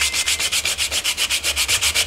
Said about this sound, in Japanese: ではサンドペーパーですね。 はい、これでこの部分だけちょっと削ってやります。